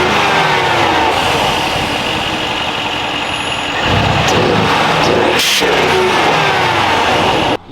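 A Mercedes-AMG GT S with modified exhaust and blow-off valves runs loud and close, its engine droning and rising in revs with whooshing bursts, continuous throughout.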